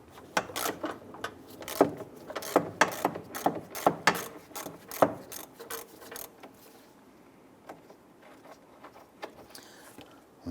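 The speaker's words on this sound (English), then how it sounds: "Using our 13mm socket and our ratchet," A ratchet on a 13mm socket loosening a bolt on a 2002-2008 Dodge Ram 1500 during power steering pump removal, with rapid clicking bursts in uneven strokes that fade to quiet near the end.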